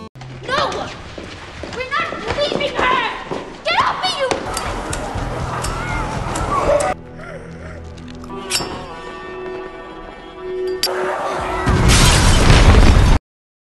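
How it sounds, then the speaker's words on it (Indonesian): A building packed with infected people explodes in The Last of Us, ending in a loud, roaring blast at the close, preceded by louder and quieter stretches of varied sound and a sudden short cut. "pemantik apinya pun berhasil menyala lalu kemudian menjatuhkannya hingga meledakkan gedung tersebut"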